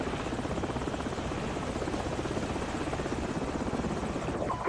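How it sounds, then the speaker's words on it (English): Enemy helicopters in the video game Call of Duty 4 produce a steady, loud rotor thrum and engine roar that fills the whole stretch without letup, with no voices over it. "Enemy helicopters."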